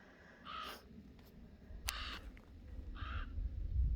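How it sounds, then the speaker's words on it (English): Ravens caw three times in short bursts, one after another, at moderate distance over a garden, with a steady low rumble beneath. "Gosh darn ravens squawking in the background."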